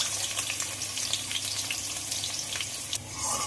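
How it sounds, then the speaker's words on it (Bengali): Onions sizzle and crackle in hot oil, a steady frying hiss close by with scattered pops, briefly stirred near the end. "তেলটা একদম গরম হয়ে গেছে পেঁয়াজটা একটু ভেজে নেবো"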